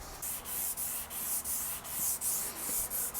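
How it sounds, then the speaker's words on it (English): Ebony guitar fretboard sanded by hand with 360 grit sandpaper: close, rhythmic back-and-forth rasping strokes, about three per second, steady and loud with no speech. "We want to make sure we sand till we get all the 240 grit scratches out of the fretboard."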